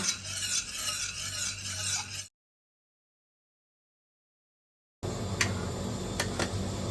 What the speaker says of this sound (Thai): นำมาตั้งไฟและคนเบาๆเพื่อให้น้ำดอกอัญชันเข้าผสมกับน้ำกะทิ